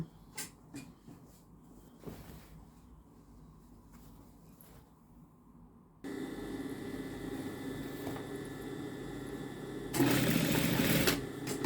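A sewing machine stitching a shirt cuff: quiet handling clicks first, then a steady mechanical whir begins about midway and grows louder in a final burst, close by.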